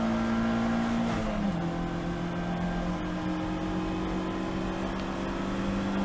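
A GAZ Shocks 116 Trophy race car at speed around Brands Hatch, heard from inside as a loud, steady engine drone whose pitch shifts down through a gear change, with other cars close by and no talking.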